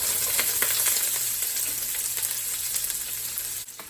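Chopped onion sizzles and fries in a pan, a steady close hiss with faint stirring scrapes, continuous throughout and dropping off just before the end.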